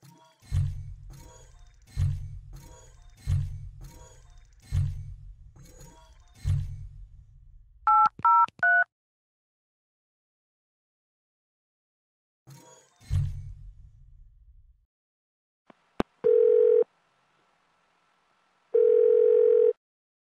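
In a substation switching simulator, a telephone keypad sounds a run of button beeps, followed by a short burst of tones and then long steady dial-tone segments, with silent gaps in between.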